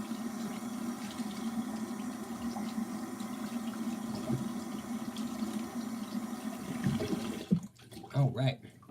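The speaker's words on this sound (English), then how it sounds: "I'm gonna go to one of my favorite parts of the shave, the cold water rinse" Cold water runs steadily from a tap for a rinse after shaving, a soft continuous splashing close by that breaks up into a few spattering drops and sounds near the end.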